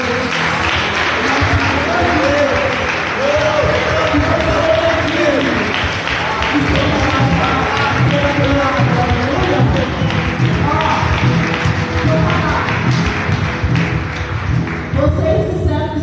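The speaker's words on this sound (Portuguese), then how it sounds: "vamos aplaudir o nosso Deus" A church congregation at a celebration service claps together in a lively, continuous burst, with singing or voices mixed under the applause and some thumping alongside.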